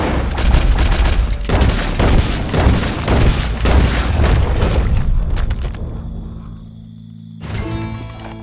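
Rapid gunfire and booming shots from a Western-style open-world game, Red Dead Redemption 2, crack in dense overlapping bursts for several seconds, then fade into a low rumble and a quieter stretch with a brief flare of sound at the end.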